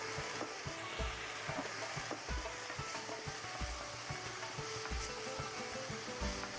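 Spinach filling for chicken rolls being stirred in a hot pan, with a continuous sizzle broken by repeated scraping and knocking strokes of the utensil at an uneven pace, close and alone.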